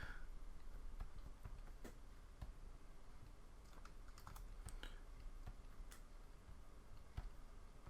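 Computer keyboard keys clicking one after another in quick irregular taps, close and fairly quiet, a run of crisp clicks with short gaps and no other sound around them.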